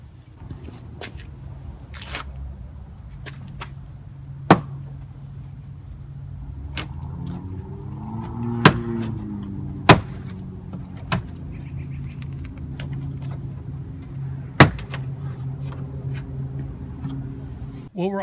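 Plastic pry tool working loose the back panel on a Toyota 4Runner tailgate, giving a handful of sharp, isolated clip pops and snaps spaced several seconds apart over low background rumble, with a faint voice murmuring in places.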